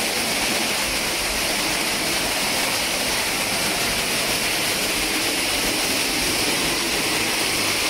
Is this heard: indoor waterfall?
yes